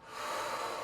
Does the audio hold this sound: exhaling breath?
yes